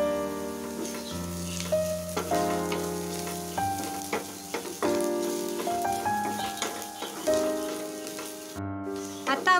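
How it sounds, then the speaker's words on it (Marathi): Chopped onion with a pinch of salt sautés in oil, a soft continuous sizzle that runs under scattered scraping knocks and light clinks, with no talking. "आता आपला कांदा गुलाबी रंगावरती परतला गेला आहे"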